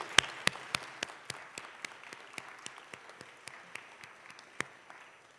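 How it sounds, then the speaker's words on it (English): Audience at an evening gathering in a church hall clapping in slow, sparse, rhythmic unison, each sharp clap distinct and moderately loud, with light scattered clapping underneath. "Can we clap our hands in this place?"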